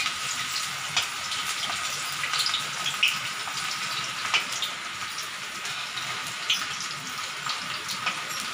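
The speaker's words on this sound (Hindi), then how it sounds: "गाइस, अब हमारा तेल गर्म हो चुका है। अब हम इसमें चिप्स डालेंगे।" Banana chips fry in hot oil with a dense, even sizzle and bubbling that holds close and steady throughout, marked by small crackling pops and no voices.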